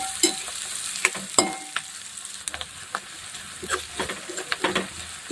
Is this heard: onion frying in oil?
yes